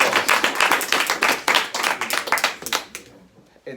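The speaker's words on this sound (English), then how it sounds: "Give George a round of applause." Applause from the audience at a live business event, loud close clapping from a small group with crisp individual claps and a rhythmic pulse, dying away at the end into quiet.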